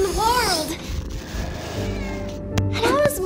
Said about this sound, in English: I got a pet cat named Fluffy